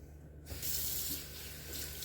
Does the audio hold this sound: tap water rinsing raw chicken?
yes